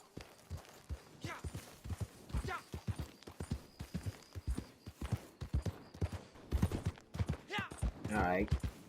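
Horse hooves clip-clop in a steady walking rhythm while riding in the Western video game Red Dead Redemption 2 Online. Someone talks over the hoofbeats throughout.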